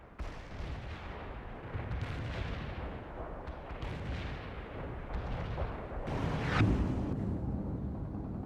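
Artillery barrage in World in Conflict: a dense, continuous rumble of heavy shelling and explosions with no voices, holding steady and swelling a little louder near the end.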